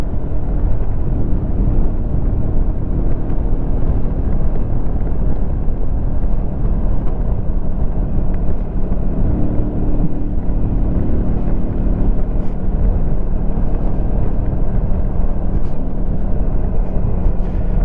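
A 2025 Lifan KPT 400 motorcycle being ridden on a beautiful day, giving a steady, loud, unbroken engine and wind roar throughout, with no voices.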